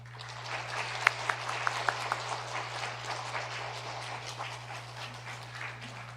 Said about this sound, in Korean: 한번 환영하는 의미로 그렇게 한번 박수로 환영하겠습니다